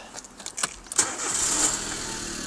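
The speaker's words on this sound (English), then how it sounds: "Starts on the button, ticks along. It's a little 3-cylinder engine, these." A small Daewoo Matiz three-cylinder car engine cranks briefly and catches on the first try, then settles into a steady, close idle that ticks along evenly.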